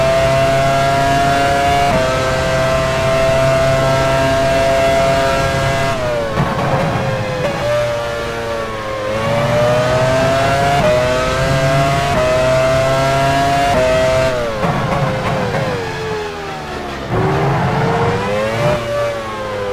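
An F1 race car engine in F1 Challenge 99-02, 2001 British GP at Silverstone, revs loud and close as the car pulls out of the pit lane, with harmonic whine rising and dropping through repeated gear changes.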